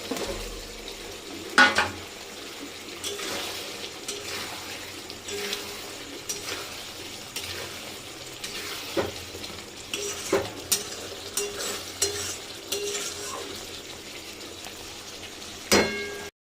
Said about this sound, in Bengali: বাবা কি গরম, ভাজা আলুগুলো ছেড়ে দিই।